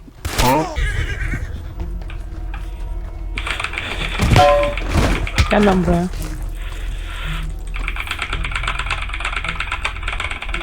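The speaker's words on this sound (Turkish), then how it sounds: "Ooo klavye sesi geliyor mu bilmiyorum." Rapid keyboard typing clatters in bursts alongside game sounds, including a horse whinny, while someone talks over it.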